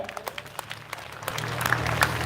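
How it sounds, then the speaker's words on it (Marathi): Applause for the students at a Republic Day flag-hoisting and cultural programme, scattered claps building into steadier clapping from a crowd, moderately loud with faint background murmur. "एकदा या सर्व विद्यार्थ्यांसाठी जोरदार टाळ्या"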